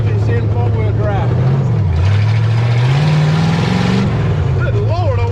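A 1961 Willys Jeep, running after sitting for 30 years, chugs loudly and close with a low, rough idle that rises and falls as it revs, while people talk over it.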